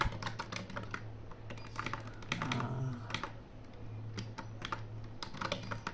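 Rapid typing on a computer keyboard while a command is entered during a MikroTik OS setup on a mini PC, steady clicking keystrokes close up over a constant low hum.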